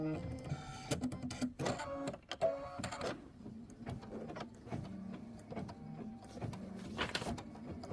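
A sewing machine runs steadily through a dense, chunky satin stitch on a quilt block, its mechanical whir and rapid needle clatter continuing in uneven bursts close up, with no talking.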